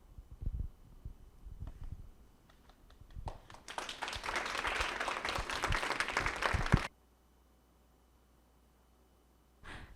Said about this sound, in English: So we have already clapped